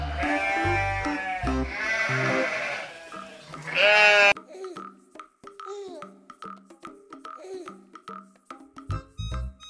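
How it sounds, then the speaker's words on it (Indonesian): A goat bleats in several loud, wavering cries at the start, then a busier stretch follows with shorter clicks and thin calls before a brief burst at the end. "Ini adalah kambing."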